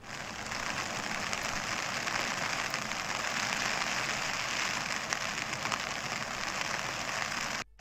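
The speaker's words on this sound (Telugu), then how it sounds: "కామారెడ్డి జిల్లా వ్యాప్తంగా ఎడతెరిపి లేకుండా భారీ వర్షం కురుస్తుంది." Heavy, unbroken rain falls across Kamareddy district, a constant hissing wash of water heard at moderate volume without pause until it cuts off at the very end, with no talking.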